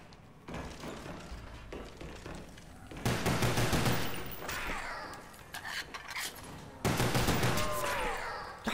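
Rapid automatic gunfire in Call of Duty Black Ops Zombies on the Ascension map, coming in two loud sustained bursts with quieter mechanical clatter and game effects between them, up close.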